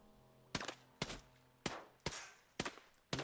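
Gunfire aimed at a basketball in the tactical shooter Ghost Recon Breakpoint: six sharp, evenly spaced shots, each a loud crack with a short decaying tail, with faint background game tones between them.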